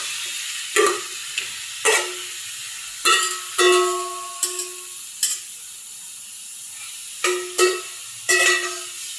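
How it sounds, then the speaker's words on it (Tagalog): Bitter gourd tossed into a hot pan with sautéed onion and garlic, giving repeated bursts of sizzle and spatula scrapes at a steady stirring rhythm, close and fairly loud, with no talk. "After mag-isa ng sibuyas at bawang, isunod na natin itong ampalaya."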